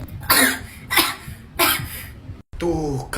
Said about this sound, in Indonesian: Tuh, kan bener batuk.